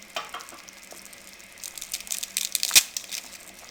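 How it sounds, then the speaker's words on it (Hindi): Maggi noodles, snapped in half, drop into a pot of hot masala for soup noodles; crinkly rustling and crisp cracks build over a soft sizzle, ending in one sharp snap, close by with no talk. "अब इसमें हम मैगी नूडल इसमें ऐड करेंगे। इनको हम हाफ हाफ करके इसमें ऐड करेंगे"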